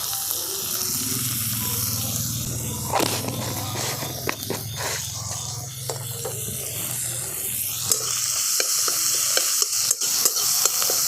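Fish pieces seasoned with salt and turmeric fry in a wok with a steady close sizzle, while a spatula scrapes and turns them in irregular knocks and scrapes that grow brighter and busier toward the end.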